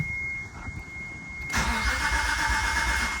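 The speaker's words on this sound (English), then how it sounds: "I'm gonna crank it over for a minute, try to build some oil pressure" A Mitsubishi 3000GT VR4 with a freshly installed engine is cranked by the starter, a quiet whirring at first that swells into a louder, steady mechanical churn close to the car, with no talking.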